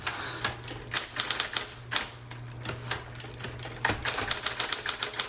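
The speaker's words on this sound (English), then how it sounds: "My favorite electric typewriters are the Electra series." A repainted 1960s Electra 110 electric typewriter types in rapid bursts of sharp, close key strikes over a steady motor hum, with brief pauses between runs.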